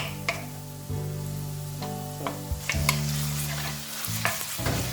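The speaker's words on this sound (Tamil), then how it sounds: "இந்த ஆனியன் பார்த்தீங்கன்னாக்கா கோல்டன் ப்ரௌன் வரும் வரைக்கும் நம்ம கொஞ்சம் மிக்ஸ் பண்ணணும்" Onions frying in a pan, stirred with a utensil: a steady sizzle underneath with scattered scraping and clinking stirs, close and moderately loud.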